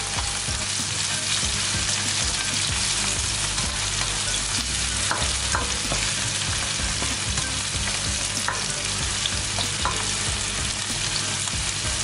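Vegetables, including carrots, sizzle steadily in a hot pan while a utensil scrapes and stirs them in irregular strokes, close and continuous throughout.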